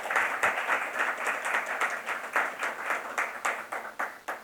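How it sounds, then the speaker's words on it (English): A concert audience gives warm applause at a closing ceremony for a Carnatic music event, a fairly soft but clear patter of many hands in loose, pulsing waves, with no talk. "Another big round of applause for Sir."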